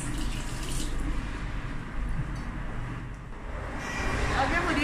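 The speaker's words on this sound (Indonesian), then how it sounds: "Setelah itu dibilas lagi." Running water rinses produce at a tuna processing factory in Bali, a steady broadband wash of flowing water with faint background machinery and people talking under it throughout.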